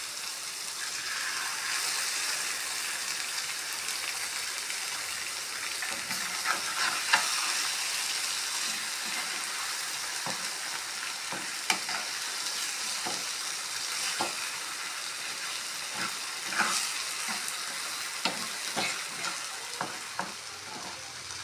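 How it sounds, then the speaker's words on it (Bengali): Mustard paste with ground spices sizzles steadily in a pan for a fish curry, a constant bright frying hiss broken by irregular scraping clicks of a stirring spoon, close and loud with no talking. "এখন আমি ঢেলে দেব সর্ষে বাটা।"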